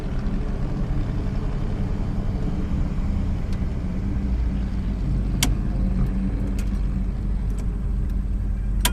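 A 1959 Chevrolet Bel Air cruises on a fall color tour, heard from inside as a steady low engine and road rumble with a few faint clicks, continuous and without talk.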